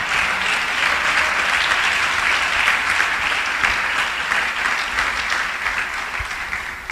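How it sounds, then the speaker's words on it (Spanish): A church congregation applauds steadily and loudly throughout, a dense wash of many hands clapping together that tapers slightly at the end. "¿Cuántos le pueden dar un aplauso al Señor?"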